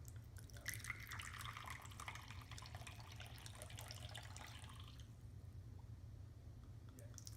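Traditional Eritrean coffee pours from a pot through a filter into a small finjal cup, a soft liquid trickle and splash for about five seconds before it tapers off over a low steady hum.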